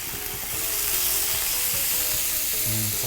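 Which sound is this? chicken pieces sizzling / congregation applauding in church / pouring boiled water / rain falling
chicken pieces sizzling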